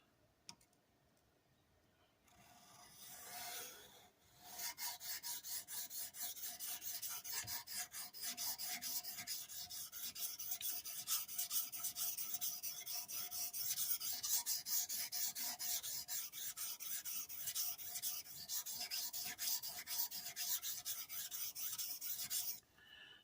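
CPM 154 steel blade rubs across a 1000 grit vitrified diamond stone in a fast, steady stream of fine rasping strokes lasting about twenty seconds, quiet and close, with no talking.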